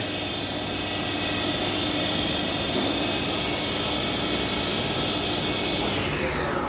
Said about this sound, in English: As you listen to the spindle ramp up, that is a two-speed gear head, two-speed geared head.